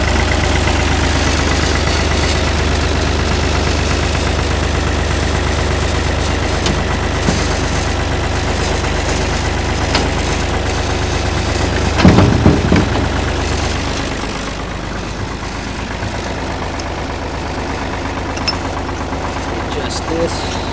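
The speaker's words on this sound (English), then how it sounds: "Now I'm gonna start my tractor up and lift it up so you can see the underside." A tractor fitted with a three-point hitch, PTO and bush hog idles nearby with a steady, loud, low rumble, briefly revving around the midpoint before settling slightly quieter.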